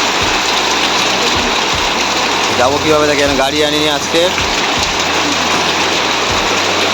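Heavy rain pours continuously with a steady, loud wash of hiss, while someone speaks over it partway through.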